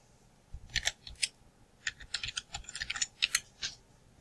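Clicky keystrokes on a computer keyboard come in irregular bursts, a few isolated presses followed by a faster run of taps, close and crisp with no voice.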